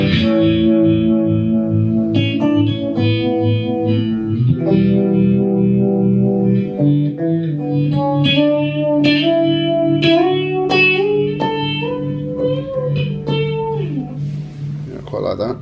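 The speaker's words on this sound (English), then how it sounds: "And this is the Univox, which I really like" An electric guitar plays sustained chords and bends through the Univox effect on a Boss ME-70 multi-effects pedal, producing a swirling, reverberant tone that stays loud throughout, with a voice speaking over part of it.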